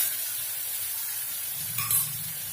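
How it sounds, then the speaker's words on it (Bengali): Ground spice paste hits hot oil tempered with black cumin, a soft steady sizzle with a brief louder burst of spitting near the end, no talking. "কালো জিরা ফোড়ন দেওয়ার পর আমি ওই বাটা মিশ্রণটা তার মধ্যে ঢেলে দিলাম"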